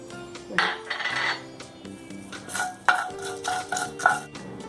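Mustard seeds with a dried red chilli crackle in a spoonful of hot coconut oil in a pan, giving close, irregular bursts of sharp pops and clinks with no voices.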